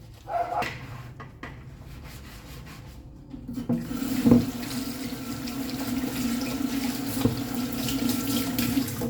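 Tap water runs steadily into a kitchen sink as plates are washed, the flow starting partway through and continuing without talk, with a faint dog bark heard early on.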